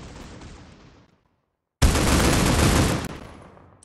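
Gunfire in the mobile shooter Critical Ops: a decaying blast, a second of silence, then a loud sustained burst of rapid automatic fire lasting over a second before tailing off.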